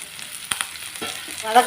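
Steady crackling sizzle of chopped chayote frying in a hot pan, with a couple of brief scraping stirs partway through.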